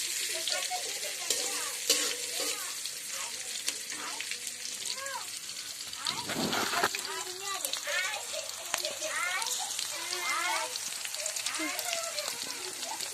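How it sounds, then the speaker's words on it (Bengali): Chopped green chillies sizzle and crackle in a hot pan, with a continuous fine frying hiss and a brief stir around the middle. A person talks over the cooking throughout. "এগুলোকে একটু আগে ভাজা ভাজা করে নিই"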